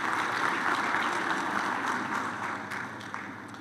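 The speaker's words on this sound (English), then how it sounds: "can we just give her a big round of applause?" An audience at a science congress applauds with a dense wash of clapping that holds steady, then gradually thins out toward the end.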